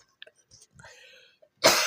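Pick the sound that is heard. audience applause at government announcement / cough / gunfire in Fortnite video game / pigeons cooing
cough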